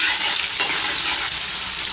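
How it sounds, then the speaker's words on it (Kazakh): Garlic frying in hot oil in a cauldron until golden, a steady close sizzle with stirring scrapes throughout, no voices. "Сары түске дейін қуырып аламыз."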